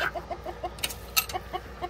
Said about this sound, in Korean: 닭을 잠깐 보여드릴게요.